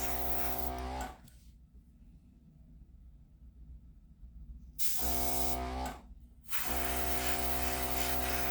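An airbrush spraying only air, with no paint, gives two loud hissing bursts, about one and two seconds long, with a brief break and quiet gaps in between.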